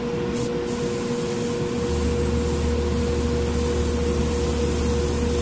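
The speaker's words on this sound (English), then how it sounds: "let's see how fine a line this airbrush can produce" Harder & Steenbeck Grafo T1 airbrush spraying with its needle cap removed, a steady continuous hiss of air and paint over a low compressor hum, close and unbroken, no voices.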